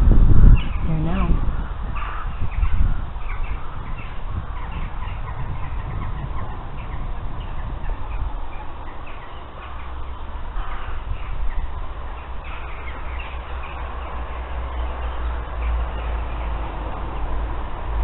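A crow caws at Jerpoint Abbey in Ireland, its calls mixed into steady outdoor background noise, with people talking nearby at times.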